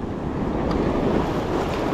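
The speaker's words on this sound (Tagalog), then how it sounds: "Medyo lumalaki ang alon eh." Open-sea waves building in size, a loud continuous rush of surf and water noise mixed with wind buffeting the microphone, close and unbroken from start to finish.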